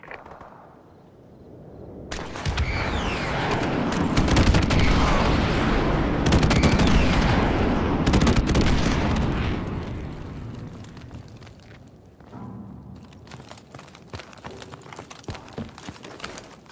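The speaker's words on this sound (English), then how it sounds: "Airstrike on the way." Airstrike explosions and gunfire in Call of Duty: Modern Warfare Remastered, with a quiet start, then a long, loud rumbling barrage of blasts that fades, followed by scattered sharp shots.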